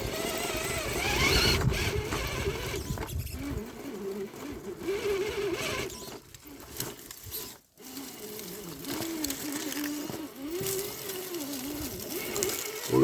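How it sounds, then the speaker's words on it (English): Traxxas TRX4 RC crawler climbing a trail hill, its small motor and steering servo whirring and buzzing in uneven bursts with brief pauses, close and moderately loud throughout. "This servo is what gets me up these hills because you can turn left and right like that."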